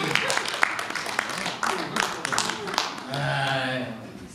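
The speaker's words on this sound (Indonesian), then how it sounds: "Tepuk tangan buat Rocky." A gathering at an evangelism and miracles service claps for Rocky, loud, brisk applause for about three seconds before a voice starts speaking.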